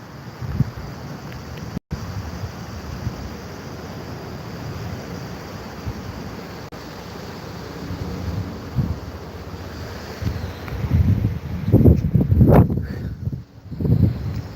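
Stormy wind buffets the microphone in steady, roaring gusts, swelling louder and rougher toward the end, with a wash like surf underneath and no talk.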